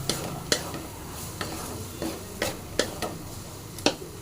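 A utensil stirs white pumpkin stir-fry in a pan, giving repeated scraping clicks at an irregular rhythm over a soft, steady sizzle, close up with no talking.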